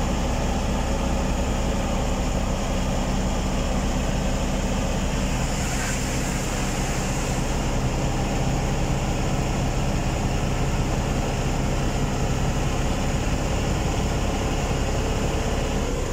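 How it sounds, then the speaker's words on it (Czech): A Tatra T-148 truck engine warms up, a continuous loud droning rumble with steady broadband noise that holds evenly throughout with no talk. "Tlačina zahřívá motor už."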